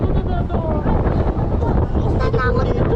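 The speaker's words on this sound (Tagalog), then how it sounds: "Lakas lang ng hangin kasi nasa taas." Strong wind buffeting high up on a Ferris-wheel-style amusement park ride, a steady loud roar and rumble against the microphone throughout, with people talking over it.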